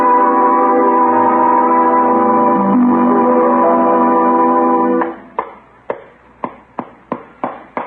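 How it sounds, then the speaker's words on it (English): A hand-rung dinner bell used to sell Christmas trees sounds a series of sharp, evenly spaced strikes, each with a short ringing decay. The strikes come after a long sustained tonal ringing and stand alone with no talk. "he's going to sell Christmas trees with a dinner bell."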